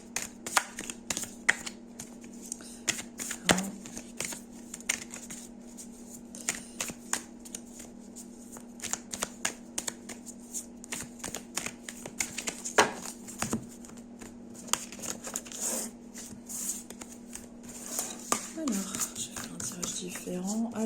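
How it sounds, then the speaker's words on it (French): Tarot cards shuffled and laid out for a three-card reading, with soft riffling and scattered crisp taps and snaps against a steady low hum, while a person talks at times. "je vais faire un tirage à 3 cartes avec le problème, le conseil et le dénouement"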